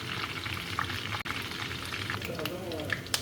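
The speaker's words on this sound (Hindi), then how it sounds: "फ्राई कर लेती हूँ अच्छे तरीके से।" Garlic and ginger fry in a pan for a chicken karahi, giving a steady close sizzle and crackle throughout, with a few small pops near the end.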